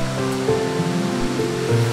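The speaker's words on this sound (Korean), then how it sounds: "홍제천의 물을 끌어올려 흐르게 하는 인공폭포로 높이 25m에 폭은 60m에 이릅니다" At Hongjecheon stream in Seoul, an artificial waterfall 25 m high and 60 m wide, fed by pumped stream water, gives a steady broad rushing roar, with faint sustained tones running beneath it.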